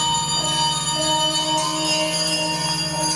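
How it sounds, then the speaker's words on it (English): A bell rings out loudly as a sound effect in a church staging of A Christmas Carol, its sustained metallic tones layered and ringing steadily throughout without pause. "he saw the bell begin to swing, and soon it rang out loudly"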